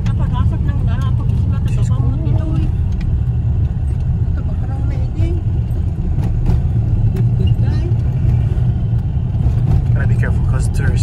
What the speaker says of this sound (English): We're driving over Patapat for like the fourth time already.